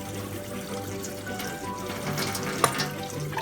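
Barley grains being washed and swirled in water by hand, a steady wet sloshing and trickling with occasional small splashes, close and moderately loud with no talking.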